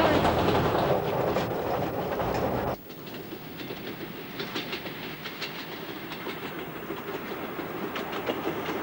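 A train in Bolivia rumbling along the rails with continuous clattering and rolling noise, heard from inside, louder at first then settling into a steady hum.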